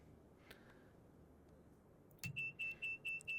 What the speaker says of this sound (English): Got an alarm, let's turn that off.